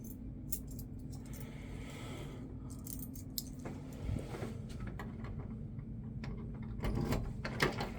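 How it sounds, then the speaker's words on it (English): A bunch of unlabeled keys jangles at a building door, light metallic clinks and rattles coming in scattered bursts over steady low background noise, fairly faint, with no talk. "I have a bunch of unlabeled keys here"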